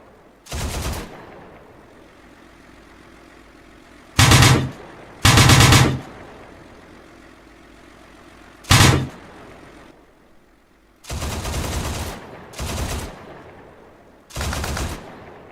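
Top-mounted 12.7mm cannon in the Mars video game fires in loud, separate bursts, some short and some sustained, with quiet gaps between them.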